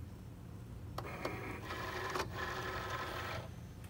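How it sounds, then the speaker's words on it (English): A cutting machine draws a cutting mat in while its load button is pressed, giving a steady whirring motor hum with a few sharp clicks and mechanical clunks, close and alone. "I'm going to hold the mat, pushing it in while I click the load button."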